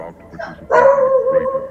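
A small dog barks at home, giving a couple of quick yips that build into one loud, sustained bark, close to the microphone and heard alone.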